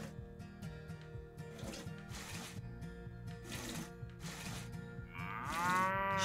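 Cows moo while being milked on a video game farm in Farm Land, over a steady mechanical rhythmic whir. A long, loud moo rises near the end.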